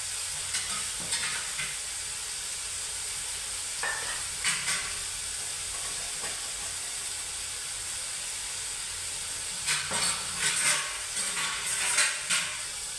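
Vegetables sauté and get stirred in a pan for a quick, healthy monsoon dish, giving a steady sizzling hiss with bursts of stirring and scraping around the middle and again near the end, with no talking.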